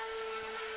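A CNC milling bit cutting 0.10-inch aluminum sheet, gumming up as it goes, gives a brief, steady, high-pitched whine over a bright metallic hiss.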